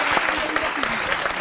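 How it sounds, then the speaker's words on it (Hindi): Dense, steady applause from an audience at a music competition show in Bhayarpur fills the short moment with continuous clapping at an even level, with no pauses. "ताली"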